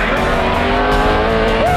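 A Trophy Truck race vehicle tears past at full throttle during the Baja 1000 desert race, its engine roaring loud and close throughout with a rising whine and tire noise at the end.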